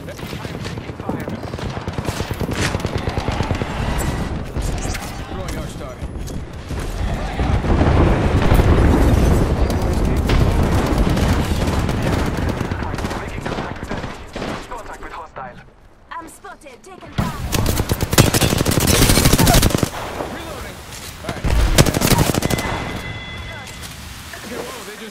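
Apex Legends combat: rapid automatic gunfire and sharp shots crackle in dense bursts, with booming impacts and explosions between them, a short lull near the middle and voices talking over the action.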